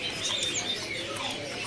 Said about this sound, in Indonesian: Ini ada burung cincong coklat.